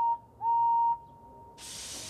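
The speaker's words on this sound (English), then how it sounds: "Henry blew his whistle" A cartoon steam locomotive in Thomas & Friends gives a short shrill whistle blast at a station, a single clear toot of under a second, followed by a sharp burst of steam hiss.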